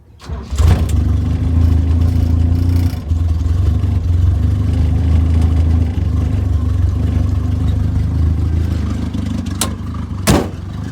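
A Toyota Wolverine ATV engine with a faulty carburetor cranks, catches and runs loud and steady close by, with a roughness through the idle and a couple of sharp revs near the end.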